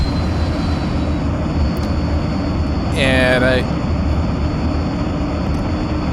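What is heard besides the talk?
heavy propeller plane engine in flight simulator video game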